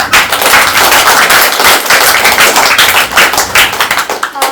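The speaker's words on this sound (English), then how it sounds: "Give a round of applause to her." An audience at a teen event bursts into loud, dense applause, many hands clapping close together in a continuous rapid patter throughout.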